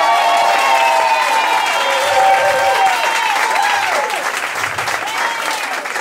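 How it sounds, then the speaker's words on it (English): Steady audience applause with some cheering fills a pub music venue for a young band member in year 9, loud and sustained throughout, with a faint voice speaking briefly over the clapping near the end. "Give him a round of applause."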